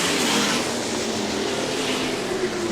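Several 410 sprint cars race at Hartford Speedway, a dirt oval in Michigan, their engines a loud, continuous roar that holds steady throughout.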